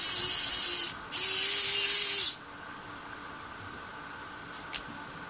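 A WOWSTICK 1P+ electric screwdriver drives a screw in two short, high-pitched whirring bursts of about a second each, close up, with a faint click afterward.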